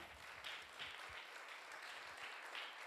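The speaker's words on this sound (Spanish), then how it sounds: "Un aplauso para Nadia" Audience applause at a school talk event, a steady wash of many hands clapping at moderate loudness, somewhat distant and continuous with no voices over it.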